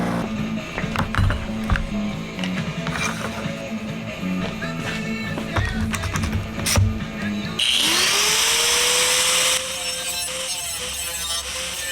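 A metal cutting disc grinds a carbon fiber knife. A close, rough whining grind is heard, with scattered knocks and handling sounds before it. Then a sustained, louder high-pitched whir rises in pitch and runs for about two seconds.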